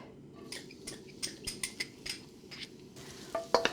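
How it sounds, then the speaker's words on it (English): Garlic sauteing in a little oil in a pan for pad see ew, with a steady sizzle under repeated scraping and stirring strokes from a utensil, close and fairly loud, with no talking. "I'm just sauteing the garlic until the smallest bit starts to turn golden"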